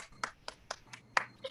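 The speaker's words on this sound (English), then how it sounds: "A round of applause to all of you." A small group at an online Toastmasters meeting gives faint, sparse hand claps, about six distinct claps spread unevenly over a short moment.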